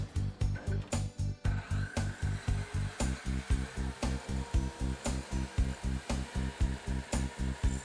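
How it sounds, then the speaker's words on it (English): A saw preset to a fixed cutting depth works through the plywood end piece of a homemade canoe, making close, steady, rapid rhythmic strokes that repeat several times per second without pause. "I preset the saw to a certain depth so it doesn't cut more than necessary"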